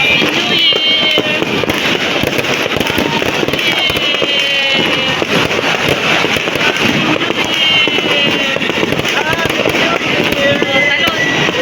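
A relentless barrage of New Year's firecrackers and fireworks bursting nonstop, loud and nearby, with rising whistles and people talking faintly under the noise.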